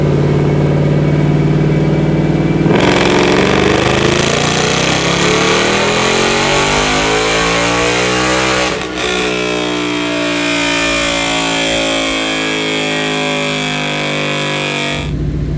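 A Hellion twin-turbo Mustang engine on a dyno pull, starting at a loud idle before revving hard in a long rising sweep, briefly dipping at a gear change, then climbing again before cutting off abruptly near the end.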